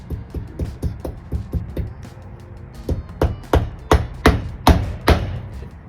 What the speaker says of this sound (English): I'm showing off my mad tacking skills.